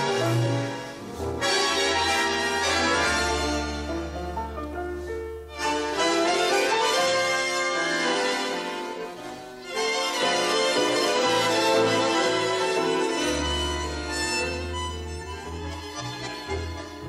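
A full tango orchestra plays together with rubato, the ensemble swelling and easing in phrases of rich, dense harmony. Pauses and bass accents fall freely rather than on a strict beat, and no voices are heard.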